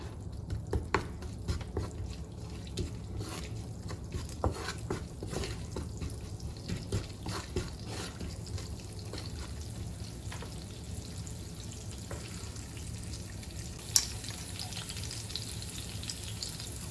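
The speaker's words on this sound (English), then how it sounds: "Fry it for a while." Food frying in a pan while making pongal gives a steady, soft sizzle with occasional light stirring clicks and a brief sharper tick near the end, continuing without any voices.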